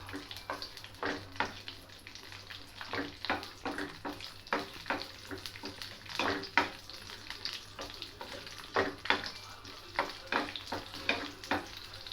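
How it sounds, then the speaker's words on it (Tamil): Cashew nuts roast in a pan for sweet milk pongal, giving soft repeated sizzling and stirring scrapes in an irregular rhythm, close and fairly quiet. "இப்போ முந்திரி பழத்தை போடுவோம் போட்டு நல்லா கொஞ்ச நேரம் வறுப்போம்"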